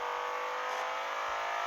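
A BMW M5 engine held at high revs in the racing game Assoluto Racing, a steady loud synthetic engine whine with no break across the short stretch.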